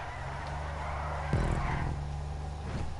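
A front-wheel drive Rune Cheburek in GTA 5 drones along at steady speed while its noisy suspension gives a thudding knock partway through, the engine hum continuing underneath.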